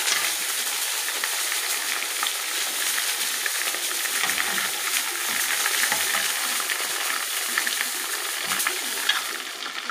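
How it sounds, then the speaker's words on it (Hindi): A steamed roast sizzling as it fries in a pan, a steady, close, bright hiss running throughout with occasional stirring scrapes and light clinks, and no one speaking. "ये हमने रोस्ट पर स्टीम लगवाई थी और अब हल्का सा हम इसको फ्राई करेंगे"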